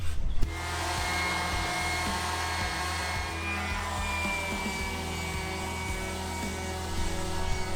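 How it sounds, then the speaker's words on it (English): Power sander working over a rough plywood cut-out during a catamaran sailboat woodworking refit, a steady loud whirring drone that holds evenly for several seconds with a low motor hum underneath. "I'm going to take the sander to it, see if we can't smooth it out."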